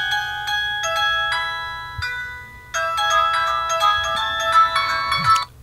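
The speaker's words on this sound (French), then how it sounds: "j'ai sélectionné la sonnerie." An electronic phone ringtone plays a bright, repeating melody, close and loud, pausing briefly before resuming.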